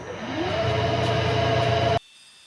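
A milling machine fitted with a half-inch cutter takes a 30-thousandths-deep test cut while machining rack-and-pinion hold-downs: a steady motor hum with a tonal whine, fairly loud and close, cutting off abruptly near the end.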